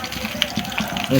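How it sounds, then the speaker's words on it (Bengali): Four marinated eggplants sizzle in hot oil in a pan over a very hot clay stove, a dense, close crackling with small pops throughout the short stretch. "চারটা বেগুন এখানে ভেজে নিচ্ছি"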